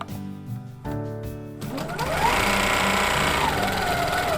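A sewing machine quilting a leaf and feather border on a bunny panel, starting with short bursts of stitching, then settling into a fast, continuous close whir.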